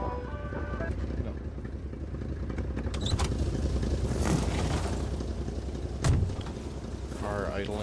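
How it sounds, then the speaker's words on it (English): A car engine idles in a video game with a low steady rumble and mechanical whirring, joined by scattered clicks and a brief louder burst near the end. "Car idling simulator."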